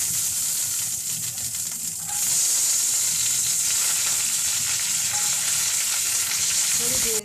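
Curry leaves sizzle loudly in hot garlic tadka oil with julienned garlic, a steady bright frying hiss that swells after the leaves go in and carries on without a break.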